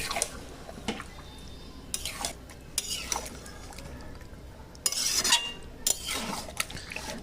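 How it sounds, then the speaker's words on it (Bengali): Chicken and yogurt are stirred in a metal pot with a spoon, which scrapes and clinks in irregular bursts. A louder stretch of clatter comes midway, over a quiet, wet background. "খুব ভালো করে এটা নাড়াচাড়া করতে হবে।"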